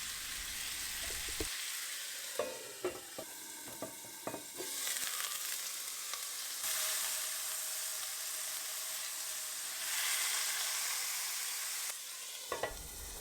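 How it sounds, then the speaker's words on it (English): Lamb shoulder browns in a pan, sizzling and hissing steadily, with intermittent stirring and scraping clatters close by and louder bursts of frying at times. "I'm using lamb shoulder here. And going to first brown it the sides"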